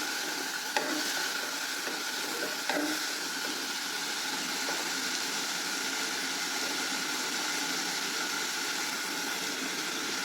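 Tomatoes and garlic fry in a pan with a steady, even sizzle, joined by a couple of faint clinks from stirring.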